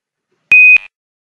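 A single sharp electronic beep, steady and high-pitched, sounds briefly in otherwise silent surroundings.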